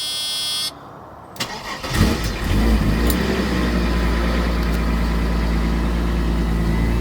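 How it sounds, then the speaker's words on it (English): A Mercedes-Benz car engine cranks and catches after a brief whir, then settles into a steady, close, rumbling idle that continues to the end with no one speaking. "Go ahead and fire it up."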